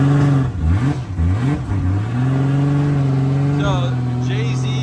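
Freshly built JZ-engined BMW E92 drift car revving hard in sharp rising and falling bursts, then holding a steady loud drone, with brief voices near the end, behind the scenes at Indonesian D1GP.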